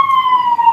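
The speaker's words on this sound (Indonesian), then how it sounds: "saya bercakap sebab masuk bunyi ambulan" An ambulance siren picked up by a microphone sounds as one loud, clear sustained wail tone that slides slightly downward over less than a second.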